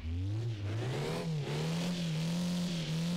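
An old car engine in the City Car Driving video game starts and settles into a running drone, its pitch rising and wavering slightly, loud and close with no other sounds.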